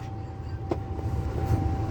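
A train rumbles past at a level crossing, low heavy rolling noise with a steady warning tone ringing throughout.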